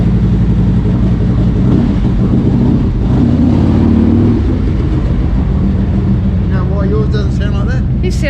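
A Harley-Davidson Road King motorcycle with a full aftermarket exhaust system idles loud and close with a deep throbbing rumble, swelling in a rev before settling, while voices talk over it toward the end.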